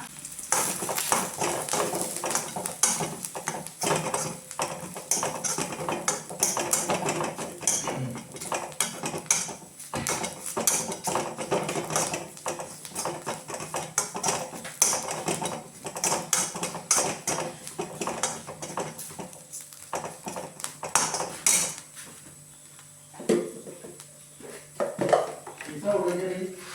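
Stirring a pot of food seasoned with chilli powder during home dinner cooking, with repeated scraping and clinking of a utensil against the metal pot and a faint sizzle, fairly close, mixed with people talking.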